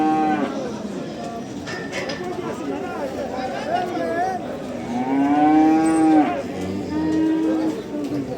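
Calves at a livestock market mooing repeatedly and loudly close by, long drawn-out bellows overlapping, with crowd chatter and voices underneath.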